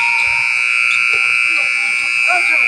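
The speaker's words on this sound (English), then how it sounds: "That buzzer, don't mind it" A loud, steady electronic buzzer drones without a break during a high school basketball game at Golden 1 Center, with faint crowd murmur underneath.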